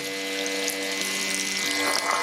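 XD-8105 electric body trimmer running under water, giving a steady, close motor whine muffled by water with a faint bubbling wash, continuous and alone for a couple of seconds.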